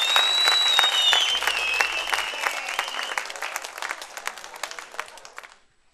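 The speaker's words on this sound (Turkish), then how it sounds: "Büyük bir alkış ve herkes ayakta." A big round of applause from an audience on its feet for folk minstrel Ali Kızıltuğ on a Turkish TV show, dense clapping and cheering that thins out toward the end before stopping.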